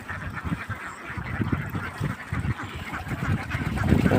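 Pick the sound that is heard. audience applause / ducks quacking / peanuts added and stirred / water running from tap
ducks quacking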